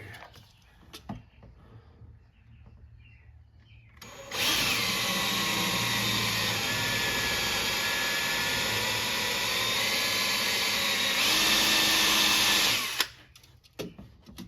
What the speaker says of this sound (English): what am I drilling into? It must be a double panel here.